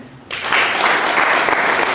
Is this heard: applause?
yes